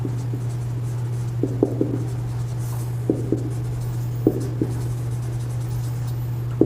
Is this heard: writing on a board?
yes